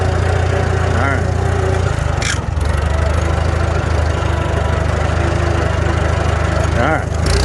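A Farmall A tractor engine runs steadily nearby with a loud, even low drone and gear whine, joined by a brief clatter midway and faint voices over it.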